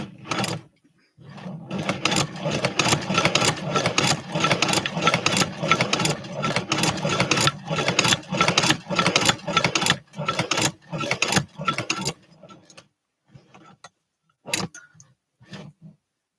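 An old-school sewing machine with small tensioning knobs, newly mounted on a wooden base, runs in a fast clattering stitch rhythm for about twelve seconds, then falls quiet apart from a few scattered knocks.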